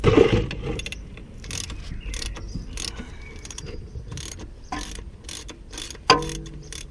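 A ratchet works to loosen the oil drain plug on a Smart car, giving a series of close, sharp clicking bursts at irregular intervals over light mechanical clatter and a louder clunk near the end.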